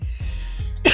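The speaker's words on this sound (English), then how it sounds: "Damn, now I'm coughing." A single close, sharp cough bursts out at the end of a brief quiet stretch, preceded by low breathy throat sounds.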